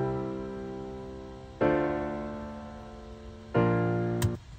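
Three sustained piano chords, each struck cleanly and left to ring and slowly fade, played fairly softly with no other sound.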